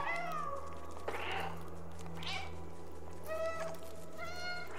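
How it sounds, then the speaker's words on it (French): Cat character meowing in the video game Stray, several distinct meows spread across the stretch over a steady low game hum, fairly close and clear with no talking. "Appuyez sur rond pour miauler."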